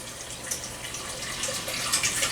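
Beef broth pours from a small container into a wok of soup, a continuous liquid splash that grows louder and brighter toward the end, with no talking.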